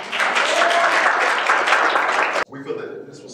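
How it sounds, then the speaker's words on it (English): Loud applause for Frankie Colbert fills the room for about two and a half seconds, then cuts off abruptly into quieter sound with a voice. "can we just give a round of applause to Frankie Colbert?"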